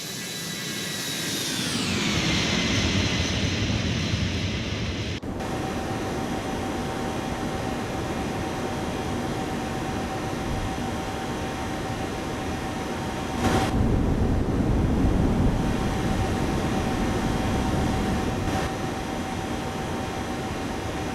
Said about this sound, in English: Goodness, that was a long takeoff roll.